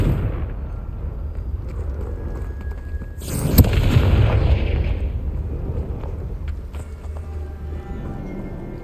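Confringo spell in Hogwarts Legacy erupts in a single loud fiery blast midway, with a rumbling tail fading over several seconds above a steady background bed.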